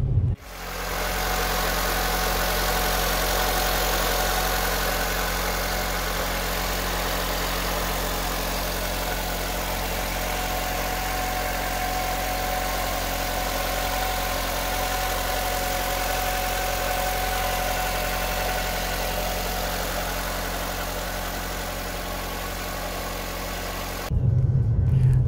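A Fiat 500L family car's engine idles steadily and loudly for most of the stretch, with a constant low hum and even mechanical drone and no talk, then cuts off briefly near the end.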